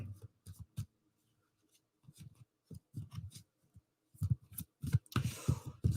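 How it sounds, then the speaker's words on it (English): Tarot cards are shuffled nearby in quiet, uneven bursts of soft riffling and tapping, separated by short pauses and growing busier toward the end. "I'll give it one extra shuffle just to make sure we had a very good shuffle"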